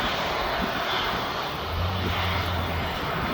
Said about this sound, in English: So this 777 you can see in front of me is off down to Brussels.